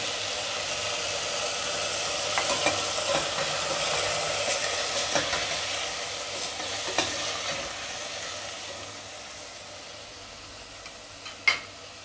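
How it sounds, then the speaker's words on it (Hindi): Pre-boiled lotus root fries in oil for Sindhi beh, a continuous moderate sizzle with a few stirring clinks, softening toward the end before one sharp utensil tap; nobody speaks. "सबसे पहले हमने जो भे बॉईल करके रखी थी इसे हम फ्राई कर लेंगे।"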